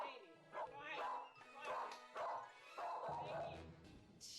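Insecure, reactive dog giving a string of close yips and barks in uneven bursts, with people talking over and between the barking.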